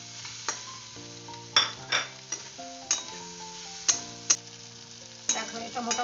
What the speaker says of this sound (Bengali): এবার আমি এই ভাজা বেগুনগুলো এর সঙ্গে মিশিয়ে দিলাম